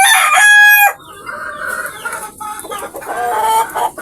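A rooster lets out a loud, close crow, followed by tethered pet chickens clucking in short bursts and a second rising call near the end.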